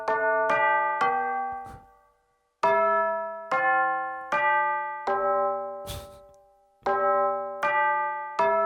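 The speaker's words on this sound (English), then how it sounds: "Ooh, tubular bell." Tubular bell patch on a Roland Fantom synthesizer plays a slow melody of about ten bright, ringing bell strikes, each with a sharp attack and long decaying overtones, with a brief pause between phrases.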